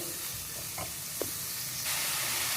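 Chopped onions for a brinjal tamarind thokku are sautéed in a pan until they brown, heard as a continuous hissing sizzle that grows a little louder near the end, with one or two faint stirring touches.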